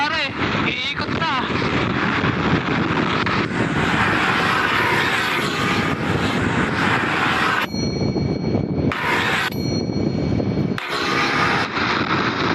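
A Yamaha Aerox scooter engine revs hard under throttle in a loud, continuous whine that drops away briefly twice before returning, with wind buffeting and voices talking under it.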